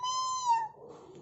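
A child imitates a cat's meow, one drawn-out falling cry of about a second, close and clear, followed by a faint murmur.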